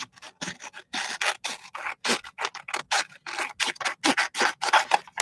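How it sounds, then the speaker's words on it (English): Scissors cutting up the middle of a sheet in a painting session, a rapid string of close, crisp snipping and rasping strokes in an uneven rhythm, with no talk over it. "Let me just cut up the middle here."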